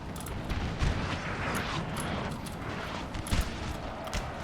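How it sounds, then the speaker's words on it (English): Artillery fire in the strategy game Total War: Napoleon, a steady rumbling battle din with low booms and scattered crackling shots, continuous and fairly distant, with no talk over it. "Get this artillery hitting this foot guard."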